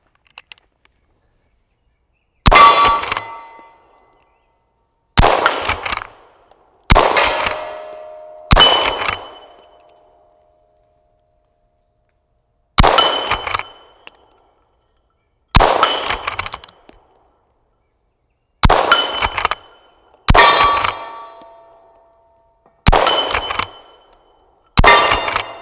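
Henry Original rifle firing at steel targets outdoors: nine sharp, loud shots spaced a couple of seconds apart, each followed by a ringing metallic clang and brief decay, with silence between.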